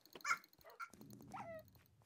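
Dogs in Minecraft give a few soft yips and whimpering barks, faint and brief, followed by a quiet electronic tone.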